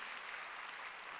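A church congregation at a Wednesday worship service claps together in a brief, even, fairly faint burst of applause.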